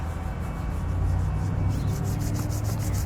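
Palms rub down the inside of the forearm in a Ba Gua self-massage, a close, continuous soft friction swishing with faint periodic strokes and no talk.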